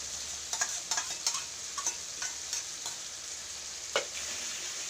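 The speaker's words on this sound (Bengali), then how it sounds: "দিয়ে এটাকে আমি আবার ভালো করে কষিয়ে নিই।" Spice paste with poppy seed paste and cashew paste frying in a pan for raw banana kofta, giving a steady close sizzle broken by several sharp taps and scrapes of a stirring spoon.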